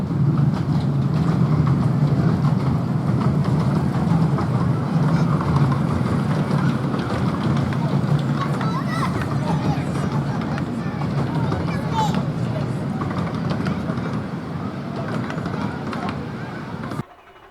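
Alice, a miniature railway locomotive, runs on the Trago Mills line through Trago Woods with a continuous loud rumble and clatter of wheels and carriages that fades slightly toward the end, over a background of crowd noise.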